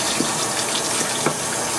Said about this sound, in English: So basically what you want to do is get some warm water going